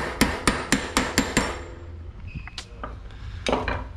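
Axle being hammered through the hub bushing of a Giant Trance e-bike during bearing replacement, a run of about six sharp metallic blows in quick rhythm, then a few lighter taps and clinks, close and alone.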